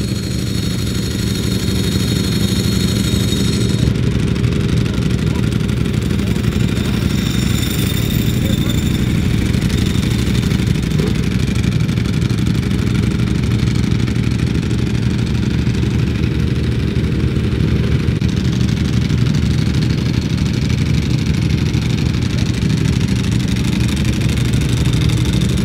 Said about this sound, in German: hier die Panigale mit Trockenkupplung hört sich auch richtig geil an.